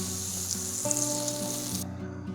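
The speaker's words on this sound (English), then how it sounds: "I think that amount of sizzling for the butter is correct." Butter sizzles steadily in a hot stainless steel All-Clad pan, a close, continuous crackling hiss with a low hum underneath.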